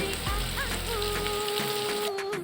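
Pointed gourd (potol) and dried chillies fry in hot oil, giving a steady, rain-like crackling sizzle with a faint tonal hum underneath, and no talking.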